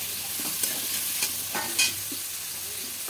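Chopped ridge gourd sizzles in a hot masala as it goes into the pan, a steady close frying hiss with a few soft stirring scrapes and a brief louder burst near the end, no voices.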